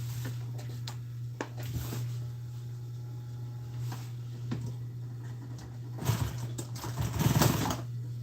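A sewing machine hums steadily as it hems the edges of a fabric tire cover, with a constant motor drone under intermittent clicks and rattles. The stitching grows busier and louder near the end.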